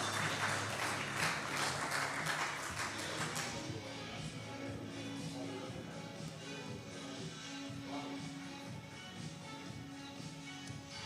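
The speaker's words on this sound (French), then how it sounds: "Applaudissements pour ce Président qui s'est donné du bonheur et faire pleurer les filles." An audience at a French business awards ceremony applauds a president. Dense, steady clapping fills the first few seconds, then thins and fades beneath soft background music.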